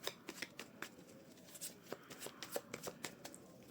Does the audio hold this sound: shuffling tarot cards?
yes